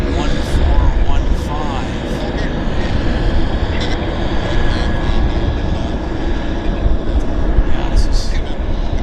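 American Airlines airliner at Vancouver Airport, a loud, steady jet engine roar filling the whole stretch, with someone talking over it.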